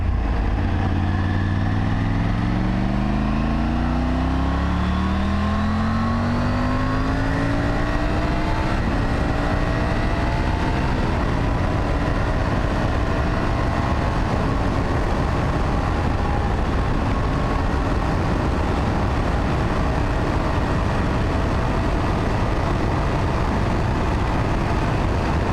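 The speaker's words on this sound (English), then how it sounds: "High speed wind blast" Wind roaring past a motorcycle rider at high speed, a loud, constant rush blended with the engine note, which slides down in pitch early on and then holds steady throughout.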